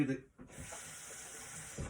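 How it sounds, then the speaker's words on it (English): Water thrown into a hot pan to deglaze the stock deposits on its bottom, making a steady hissing, sizzling rush that lasts for most of the moment after a brief pause. It is quiet overall. "Throw a little water in there."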